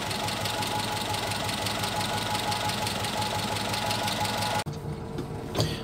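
A Volvo Amazon car engine idles with a steady, fast mechanical ticking and hum, close and continuous, then cuts off abruptly near the end, leaving faint background noise and a small clunk.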